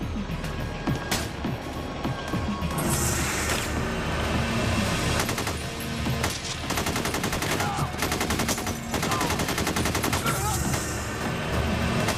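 Bursts of automatic gunfire from a bank-robbery shootout with police in North Hollywood, rapid rattling volleys and single cracks at mid distance under a dense, noisy action soundtrack.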